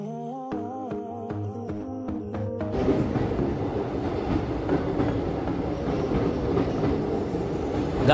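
A passenger train rolls across the new Pamban bridge, heard from on board as a dense, continuous rumble of wheels and rattle after a short stretch of melodic tones.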